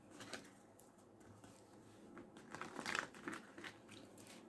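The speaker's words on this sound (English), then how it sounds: "As I pick up the deck, I see twin flames." Tarot cards are shuffled with soft riffling and papery crinkles, quiet and close, with a few sharper flicks in the middle.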